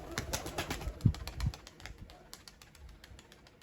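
A homing pigeon lands and moves about, giving a few soft coos and a flurry of light wing flaps and taps, close and fairly quiet.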